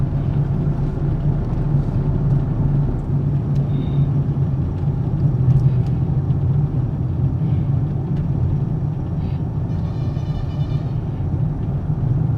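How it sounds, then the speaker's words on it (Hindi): A truck comes up from behind and passes a car on a highway, a steady loud road rumble and engine drone throughout with no clear rise or fall. "ये पीछे ट्रक आ रहा है"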